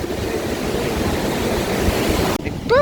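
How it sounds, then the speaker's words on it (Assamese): Sea waves at a Kerala beach wash in as a broad, steady roar for about two seconds before the sound cuts off abruptly. "আপুনি সাগৰখন পাবগৈ সাগৰ ঢৌবোৰ দেখি ল'ব"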